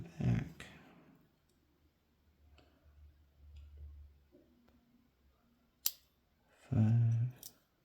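Parts of an M&C Condor lock are cut during gutting: a few quiet, sharp snipping clicks spread over several seconds, with a louder snap near the end and no talking.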